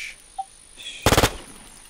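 A short burst of about four rapid gunshots in the game War Z, crisp and close, standing alone against a quiet background.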